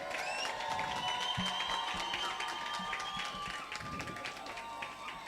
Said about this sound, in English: standing applause